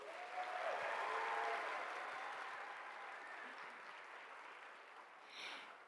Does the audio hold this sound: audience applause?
yes